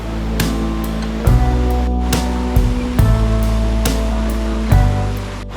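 Ratnaganda Waterfall at Daspalla in Odisha gives a loud, steady roar of rushing water, broken by occasional low thumps close to the recorder.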